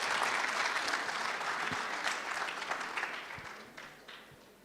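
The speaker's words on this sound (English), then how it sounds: "Can we give the Honorable Deputy Minister another round of applause" An audience applauds at a national ICT summit, a loud burst of clapping from a crowd that slowly fades, with no talking.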